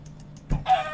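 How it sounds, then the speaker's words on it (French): A video-game chicken being set on fire gives a few short clucking squawks, loud and close, after a brief near-silent gap. "je crame cette poule"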